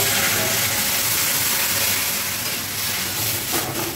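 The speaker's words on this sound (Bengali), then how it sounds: "এবার আমি সিদ্ধ করা ডালটা দিয়ে দেবো" Boiled masoor dal poured into hot oil in a pan sets off a loud, dense sizzling hiss that carries steadily throughout, close up.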